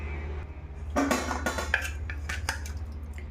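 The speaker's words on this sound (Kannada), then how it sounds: "ಈಗೊಂದು ಪ್ಲೇಟ್ ಮುಚ್ಚೋಣ" A metal plate clatters and clinks as it is set over a cooking pot on the stove, a few sharp knocks and rattles against a low steady hum, with no voice.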